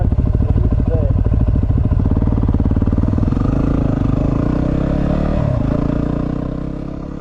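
A dual-sport motorcycle (a WR250R, DR650 or R1100GS) ploughs through deep soft sand, its engine droning loud and close with a rough, pulsing rhythm that eases off toward the end.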